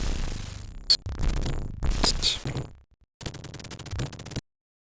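Bursts of tank machine gun fire and explosions in an SNK arcade tank game with a rotating turret, choppy rapid rattles separated by short gaps, loud and close.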